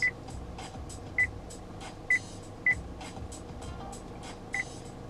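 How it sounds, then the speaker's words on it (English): A series of short, clean electronic beeps from a 2016 Kia Carens touchscreen display repeats at irregular intervals, bright and close, over a faint low background hum. "the beep when you touch the display."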